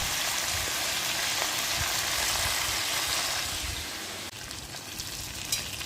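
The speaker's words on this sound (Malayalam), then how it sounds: "ചിക്കൻ രണ്ടാമത് വെച്ച് ഷാലോ ഫ്രൈ ചെയ്ത് വറുത്ത് മാറ്റി കോരിയെടുത്ത് വെക്കാം" Chicken pieces shallow frying in oil give a steady, dense sizzle that stays loud and close throughout, dipping briefly near the end before continuing.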